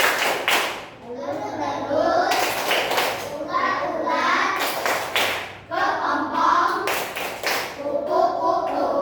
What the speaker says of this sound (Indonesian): Coba sekali lagi, tepuk, puk, puk,